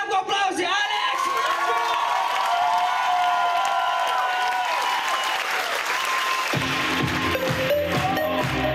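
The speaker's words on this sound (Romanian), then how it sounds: "Să terminăm cu aplauze, Alex!" Audience applause closing a comedy show, dense sustained clapping with a few whoops and cheers, loud and steady before thinning out near the end.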